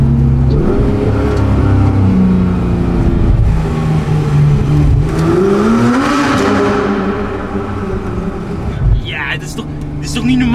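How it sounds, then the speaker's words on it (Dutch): Porsche GT3 with an iPE exhaust, engine droning then climbing in a rev before settling. Loud and close, under people talking. "Ik zat dus net in deze auto, de Porsche GT3 met IPA exhaust."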